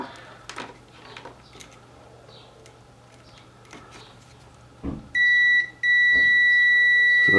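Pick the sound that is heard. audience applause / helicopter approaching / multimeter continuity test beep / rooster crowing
multimeter continuity test beep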